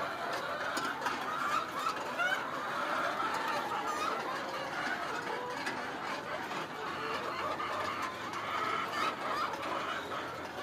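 Many Golden Misri hens clucking and murmuring together in a steady, busy chorus, with a faint mechanical rattle in the background.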